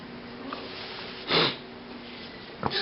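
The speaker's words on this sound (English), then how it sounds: "Excuse the sniffling here, if you don't mind." A single loud sniffle from a person with a runny nose breaks through near the middle, with a fainter second sniff at the end over steady quiet room noise while cord is worked for a knot.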